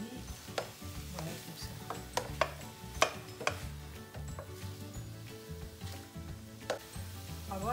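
Paneer fries in a pan with a soft sizzle while a utensil stirs and taps, giving several sharp clicks and scrapes at an irregular rhythm.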